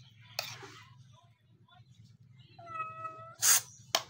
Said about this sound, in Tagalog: Ngiyaw ng ngiyaw.